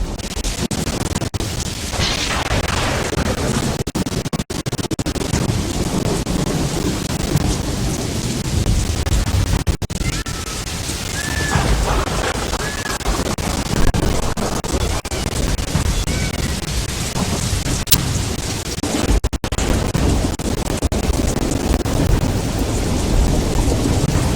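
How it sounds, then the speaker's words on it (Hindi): Heavy rain pours steadily while thunder rumbles and cracks several times, some booms close and loud, over a constant roar of downpour. "एक दिन बारिश आई। ऐसी बारिश जैसे आसमान फट गया हो।"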